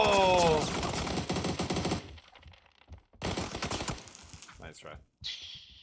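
Rapid bursts of gunfire in a video game, loud and dense at first, then further sharp volleys after a brief lull, with faint voices mixed in.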